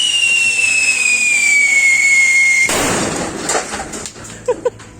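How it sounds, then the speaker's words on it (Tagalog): A rising whistle from a firecracker set off outdoors on New Year's night in a quiet street holds for a few seconds, then gives way to a crackling burst and a few scattered sharp pops. "Bigla ba naman nagpaputok si Toto?"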